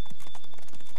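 Horses gallop in a race, their hooves drumming in a quick, steady clip-clop rhythm, close and loud, over a brief stretch.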